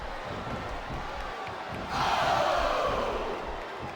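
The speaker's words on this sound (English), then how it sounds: "I love hearing the crowd come alive" A video game wrestling arena crowd (WWE SmackDown vs. Raw 2007) roars and cheers, the noise swelling suddenly midway and staying loud, a broad wash of many voices.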